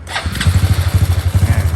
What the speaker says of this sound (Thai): เดี๋ยวลองติดเครื่องดู เป็นยังไง